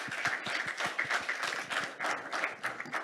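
A conference audience applauds in a steady, dense round of clapping that holds evenly throughout, fairly close and without speech over it.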